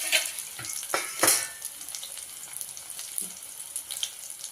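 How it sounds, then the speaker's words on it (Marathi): Vada frying in hot oil in a pan: a crackling, bubbling sizzle with a few sharper pops near the start. It then settles into a steady hiss, with no talking. "चांगली तेलामध्ये चांगले आपण परतून घेऊया"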